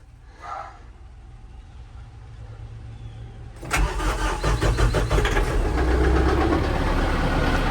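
A car engine cranks and catches after a few quiet seconds, then settles into a loud, steady idle as it warms up, with a faint rhythmic knock in the running.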